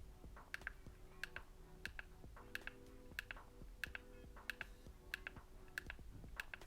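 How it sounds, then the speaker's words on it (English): Phone power and volume buttons are pressed over and over, each a sharp, faint click in an irregular rhythm, close up and quiet, with no voices. "let's do the clicky button test"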